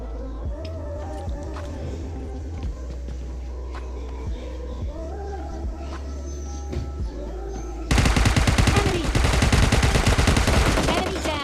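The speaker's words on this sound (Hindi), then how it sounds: "डायरेक्ट जाके गोली करता हूँ" Rapid automatic gunfire from a PUBG Mobile Lite match, with scattered shots against a steady game background that builds to a dense, loud burst of sustained firing near the end.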